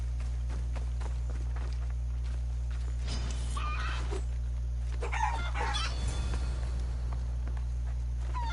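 Chickens clucking in the Assassin's Creed Odyssey video game, a few faint, scattered clucks and rustling steps over a loud, steady low hum.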